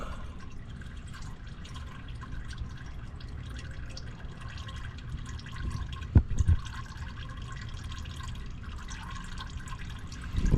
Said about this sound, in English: I think I will just let that drain a little bit